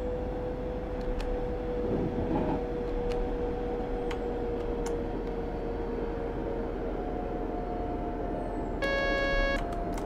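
A Sifa driver vigilance alarm sounds in a Berlin S-Bahn cab on the S25, a short stack of steady electronic beep tones near the end over constant rumbling train noise, with no talk.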